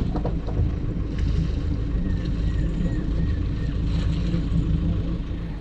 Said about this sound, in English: And we are actually motoring off because we're heading towards some surf